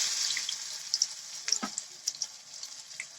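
Close, bubbling sizzle of leafy-green pakora batter frying in hot oil in a wok, with scattered pops and crackles throughout.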